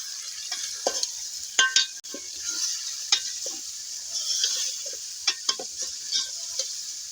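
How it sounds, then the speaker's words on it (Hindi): Onions and spices frying together in a pan for a fish salan curry, a steady crackling sizzle broken by sharp scraping stirs and clinks of a utensil, with no talk. "मसाले वगैरह भी हमारी भुनाई हो रहे हैं"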